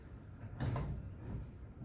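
A Volkswagen Bay bus sliding door is eased open a short way, a quiet scraping slide lasting under a second over faint background noise, with no voices.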